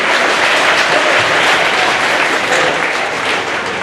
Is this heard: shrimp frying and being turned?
no